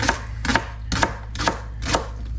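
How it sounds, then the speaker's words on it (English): Leeks chopped with a knife on a cutting board for miso soup, five evenly spaced crisp thuds, close and clear with nothing else heard. "we are going to use leeks instead. So I think I'll just get these chopped up."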